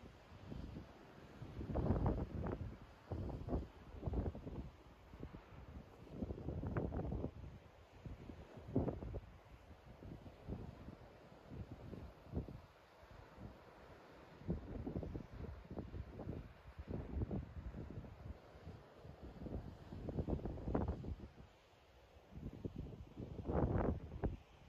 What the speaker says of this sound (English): Such a cold wind here today.